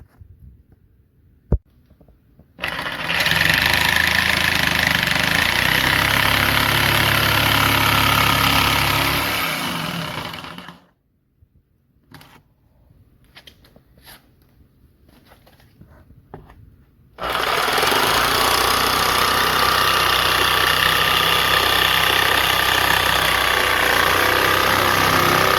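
A power saw runs loud and steady for several seconds cutting a bamboo cutting board, pauses amid clatter and handling noises, then starts cutting again.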